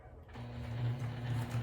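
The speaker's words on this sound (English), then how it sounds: "we're here at the sewing machine, and then we are going to start to sew." Sewing machine stitching fabric corners while making a bag, a steady mechanical whir with a low motor hum that starts after a brief quiet moment and runs evenly at close range.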